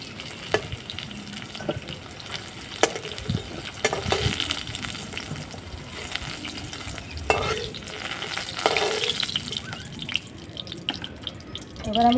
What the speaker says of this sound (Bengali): এবার আমি আলু বেগুনটা ভেজে নেব।